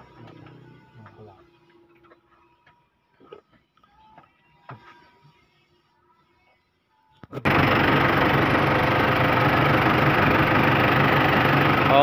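After several seconds of near silence with faint taps, a vehicle engine fires up abruptly and settles into a loud, steady idle in neutral that carries to the end.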